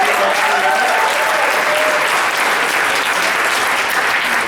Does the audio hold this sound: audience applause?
yes